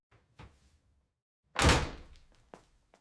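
A bedroom door slams shut with one loud, heavy thud and a short rattle, set between a few fainter knocks and bumps in an otherwise quiet room.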